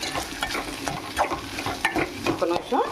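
Okra fries in a pan, a steady broadband sizzle broken by stirring scrapes and clinks, loud and close with no voices.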